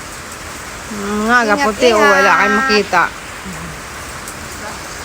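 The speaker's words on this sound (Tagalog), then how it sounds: "Ulan man." Rain falling in a rural province in Negros Oriental, Philippines, a steady close hiss of drops on surfaces, with a person talking briefly over it in the middle.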